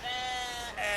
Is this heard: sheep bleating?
yes